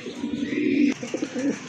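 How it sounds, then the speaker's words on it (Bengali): A large Indian Bombay pigeon coos close by, one deep rolling coo followed by a shorter burst of throaty cooing. "বিগ সাইজের এক জোড়া ইন্ডিয়ান বোম্বাই কবুতর"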